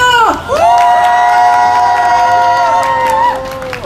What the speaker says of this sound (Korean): 전국장애인 부모연대 제22대 총선 요구안 선포식을 함성으로 시작하겠습니다